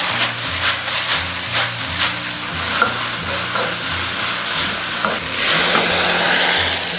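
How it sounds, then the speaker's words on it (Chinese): Luffa being stir-fried with salt in a wok over high heat, a steady loud sizzle with repeated scraping and tossing strokes of the spatula, growing more intense toward the end. "加入盐，然后大火翻炒30秒"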